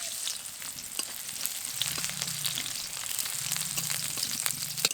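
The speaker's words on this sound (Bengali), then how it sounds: "তেলের মধ্যে দিয়ে দেবো পেঁয়াজ কুচি" Chopped onion frying in oil for a village-style singi fish curry, a steady close sizzle with crackling pops running throughout, no talk.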